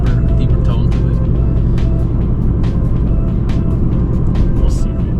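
A loud, steady, deep engine drone from a car fitted with a Granatelli 103mm throttle body and 6.2L intake manifold, rumbling continuously and up close without pause.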